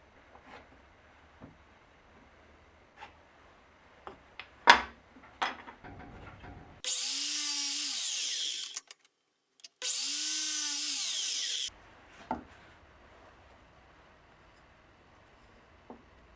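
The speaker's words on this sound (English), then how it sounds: "So I drill a recess into the two cut parts with the same diameter as the rod" A power drill bores a recess into cut wooden parts, two sustained loud whirring runs separated by a short pause, preceded by scattered faint knocks and handling clicks.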